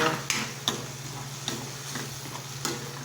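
Two beaten eggs being stirred for a tilapia dish, a few sharp utensil clicks against the bowl ringing out at irregular intervals over a steady low hum.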